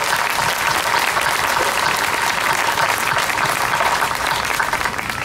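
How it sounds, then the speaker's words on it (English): A crowd applauds at the Miamisburg bicentennial opening ceremony, with dense, steady clapping from many hands that stays loud and even throughout, no talking. "Okay, let's give them a round of applause."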